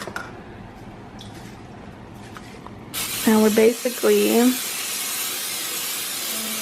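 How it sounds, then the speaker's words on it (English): A sudden, steady hiss of butter-flavor non-stick cooking spray into a pan begins partway through and keeps going, with someone speaking briefly over it. "I'm going to be spraying some non-stick pan butter flavor"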